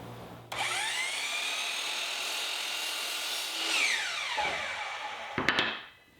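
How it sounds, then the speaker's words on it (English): A chop saw cuts wooden dowels 1 1/8 inches thick against a stop block. The motor spins up to a loud whine, bogs down as the blade bites through the wood, and then winds down after a short clatter. "I'll set up a stop block on the chop saw and cut them all at 17 inches."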